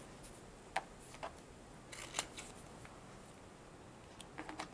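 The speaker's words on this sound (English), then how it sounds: "So just cut lots of pieces, different shapes," Scissors snipping fabric into small mosaic pieces, a few sparse, quiet cuts scattered through a low, hushed background.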